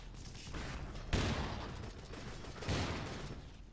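Two sharp, booming gunshots crack out in a military shooter video game, the blasts spaced about a second and a half apart, each trailing off into a rumbling echo over a low background.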